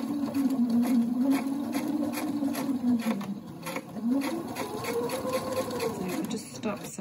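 Sewing machine stitching an invisible zip, a continuous close mechanical whir and needle patter whose pitch dips and rises with the sewing speed, running under a person talking.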